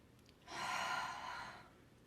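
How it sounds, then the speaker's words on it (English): A single deep breath drawn in, loud and close, swelling for about a second before easing off, alone with no talk. "So, big inhale."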